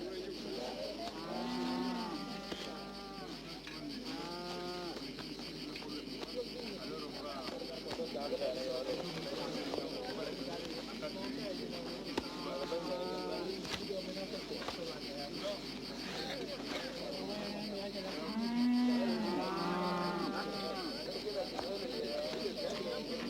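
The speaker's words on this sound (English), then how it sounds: "A Mundari herdsman treats his cattle like full-fledged members of his family." Mundari herdsmen's cattle moo repeatedly across a camp, the long lowing calls rising and falling in several bursts over a constant background hum, with narration heard over them.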